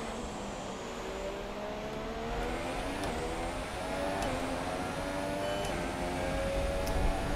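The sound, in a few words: F1 racing car engines in F1 2017 video game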